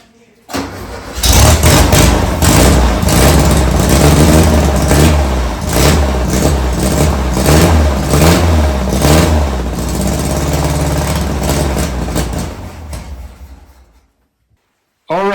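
A VW Beetle engine cranks and fires up, then revs loudly and unevenly for about twelve seconds, close by, before cutting off into silence.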